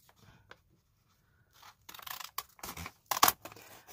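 Scissors snip through paper while a paper bag is trimmed, several quick close cuts in a burst with rustling paper between them, after a mostly quiet start.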